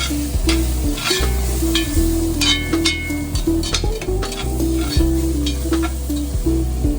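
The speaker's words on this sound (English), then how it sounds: "Keep everything moving, keeping everything stirring." Garlic and vegetables stirred in a hot pan for butternut squash soup, with a steady loud sizzle and repeated scraping strokes of the utensil across the pan, close and continuous with no talk.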